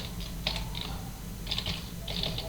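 A password tapped out on a computer keyboard while configuring a FortiGate firewall: close, crisp keystrokes in three short clusters, with the final press like an Enter key.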